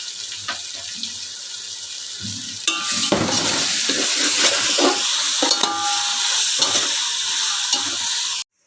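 Turmeric, coriander powder and homemade masala are stirred into a pan for shrimp biryani, a steady sizzle with scraping spoon strokes growing louder partway through, close up, with no talk.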